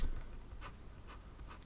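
A pen scratches across paper close up, with a few quick bright strokes spaced apart over a faint background hiss.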